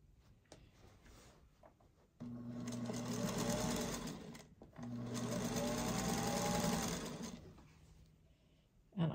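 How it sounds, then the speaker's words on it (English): Sewing machine stitching cotton quilt block pieces together, two steady whirring runs of a few seconds each separated by a short pause, close and clear with light handling noises between. "I can go ahead and sew the top piece on that, which is piece B."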